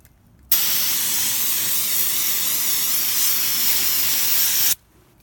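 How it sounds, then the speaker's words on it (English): A single continuous aerosol hiss of brake cleaner sprayed onto a Mazda ND Miata rear brake rotor, steady and close for about four seconds before cutting off abruptly. "Spray it. Brake cleaner dries really fast."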